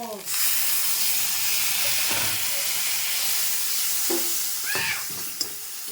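Sizzling and hissing fill a hot pan as a little water is added to cumin powder, turmeric and Kashmiri red chili powder while cooking rui fish, with a steady frying hiss and occasional stirring scrapes.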